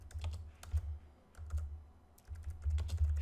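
Typing on a computer keyboard: quiet, irregular bursts of crisp keystrokes in short clusters with brief pauses, over a low background hum.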